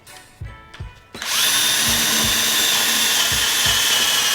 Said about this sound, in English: I pull it up a little to clean the chips out of the drill so it doesn't overheat